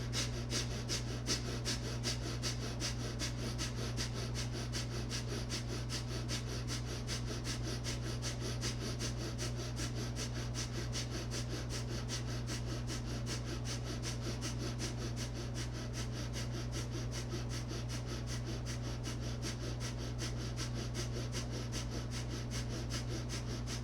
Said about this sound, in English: Keep that breath of fire.